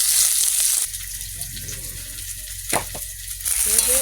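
Garlic, chopped onion and dried red chilli hit hot oil in a pan, a loud sizzle that drops to a softer frying hiss, then a few stirring scrapes and another burst of sizzle.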